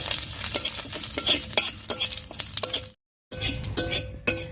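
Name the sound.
dry red chillies and whole cumin sizzling in fish-frying oil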